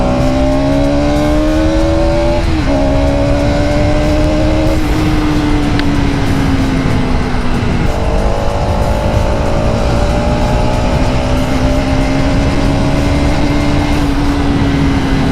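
A Bajaj Pulsar NS200 motorcycle fitted with an RS200 brass chain sprocket, ridden at speed: a loud steady engine drone rising and shifting through gears, with heavy wind rush throughout.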